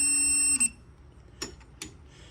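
Torque wrench on a 1973 Triumph TR6 emitting a loud steady electronic beep for about half a second when it reaches torque, followed by a few faint clicks and knocks.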